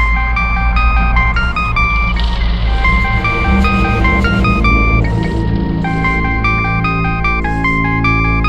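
A mobile phone ringtone plays a bright, repeating electronic melody of short tonal notes, loud and close, running steadily with no talking over it.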